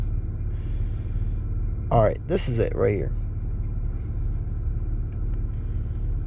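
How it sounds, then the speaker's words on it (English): An Infiniti Q50 with a VR30 engine and JB4 tune idles high with the AC on, a steady low rumble throughout, while a person speaks briefly over it. "car's finally settling on the idle. It's idling kind of high with the AC."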